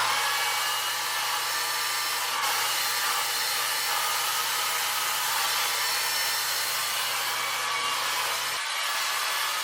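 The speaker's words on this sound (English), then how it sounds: "we're gonna blow dry this with volume as well" A hair dryer roars steadily and loudly for the whole stretch while short hair is blow-dried for volume, its tone unchanging apart from a slight dip near the end.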